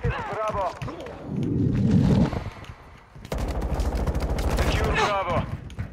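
Rapid automatic gunfire erupts in Call of Duty: Modern Warfare II, starting with a few scattered shots and then becoming a dense, loud burst in the second half, mixed with muffled game voice callouts and effects.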